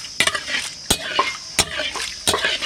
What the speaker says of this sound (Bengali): ফোড়নে দেবো সর্ষে, শুকনো লঙ্কা, তেজপাতা